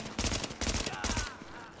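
Marksman rifle fire in The Division on Xbox One, a few rapid heavy shots in quick succession, loud and close, followed by a fading rumbling tail.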